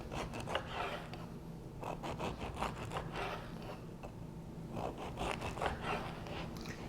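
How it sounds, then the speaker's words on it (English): A knife cuts through a cheddar cheese and garlic loaf in quiet, close, repeated crusty rasps and saws, each slice made of several short scraping strokes. "So this is a cheddar cheese and garlic loaf. So I'm going to cut off the end, which I'll eat later, and cut my slices."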